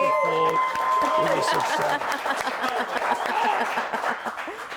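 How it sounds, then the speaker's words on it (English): A studio audience applauds at the close of the Hot and Bothered show with Jadakiss: dense, steady clapping throughout, mixed with cheering voices and scattered chuckles. "Another round of applause for wrapping up Hot and Bothered, the first edition with Jadakiss."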